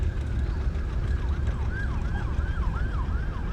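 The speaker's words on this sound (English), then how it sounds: "it's a state trooper went by, red lights and siren" A state trooper's wailing siren rises and falls repeatedly over loud road and engine rumble, growing more prominent as the vehicle approaches, at a gas and steam engine show and tractor parade.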